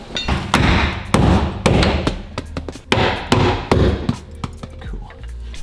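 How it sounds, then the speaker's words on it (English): Repeated heavy hammer blows on metal while fitting a rock and roll bed into a VW T5/T6 van, loud, close thumping strikes in irregular bursts with ringing clanks between them. "Hammer."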